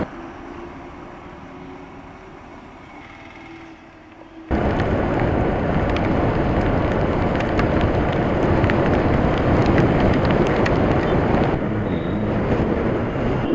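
Steady rain drizzle hisses around a motorcycle rider on a road in Assam, starting as a quieter wash and then jumping abruptly into a loud, dense roar of rain and wind noise that persists to the end.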